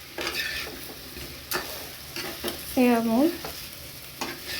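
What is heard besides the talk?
stir-frying dry masala jackfruit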